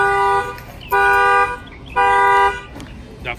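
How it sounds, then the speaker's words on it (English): A 2019 RAM 1500 pickup's factory alarm blares in repeated half-second electronic honks, three bursts with short gaps, loud and close. "That fires off the alarm."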